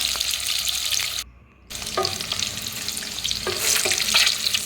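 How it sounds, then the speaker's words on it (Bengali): Eggs frying in a pan until reddish-brown give off a steady, dense sizzle with soft stirring scrapes. The sizzle drops away briefly near the start, then returns just as loud. "এইভাবে করে একটু লাল লাল করে আমি ডিমগুলোকে ভেজে এখান থেকে উঠিয়ে নেব"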